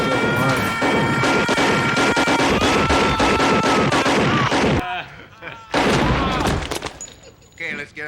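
A burst of loud gunfire and crashing impacts from the 1987 film RoboCop under a dense, dramatic soundtrack, cutting out abruptly, followed by quieter scattered movie sound effects.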